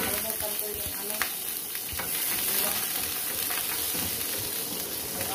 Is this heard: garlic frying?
yes